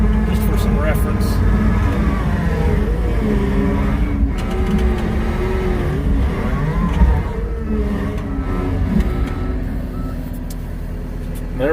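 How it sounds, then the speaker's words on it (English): A skid steer's engine runs steadily while the machine is parked on a deck clean-up site, a loud continuous diesel drone with faint beeping, under a person talking throughout. "We're going to park the skid steer right here"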